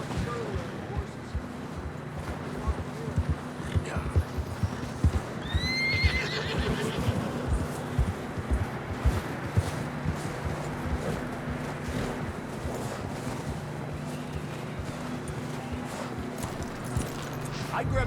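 Horses in the video game Red Dead Redemption 2 whinny and neigh clearly around the middle while hooves clip-clop steadily throughout, mixed with water-like background ambience and occasional speech.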